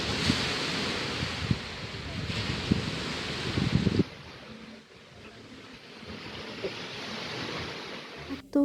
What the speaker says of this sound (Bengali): এত সুন্দর সমুদ্রের সাউন্ড আর বাতাস